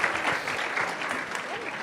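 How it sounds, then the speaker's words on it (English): An audience at an entrepreneurship kickoff event gives a sustained, even round of applause, dense clapping filling the room, with some voices mixed in. "A round of applause, guys, for Kate, Nermina, and Mikkel."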